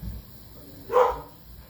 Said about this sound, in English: Got those barks going.